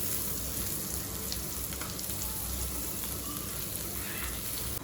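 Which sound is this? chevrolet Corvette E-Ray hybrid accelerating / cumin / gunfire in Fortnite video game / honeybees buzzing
cumin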